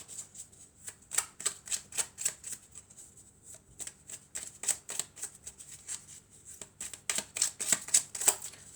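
Oracle cards being shuffled and drawn, a quick run of crisp papery flicks and riffles in uneven bursts, close and fairly quiet, with no talking.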